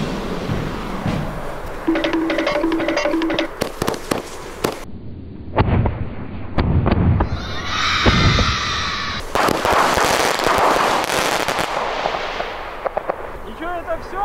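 A mini firework battery buried in sand shoots at a Kinder egg with a series of sharp pops, crackles and bursts, some loud and close, separated by hissing fuse sounds. A person talks at times between the shots.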